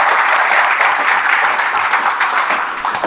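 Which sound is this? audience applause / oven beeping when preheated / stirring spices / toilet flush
audience applause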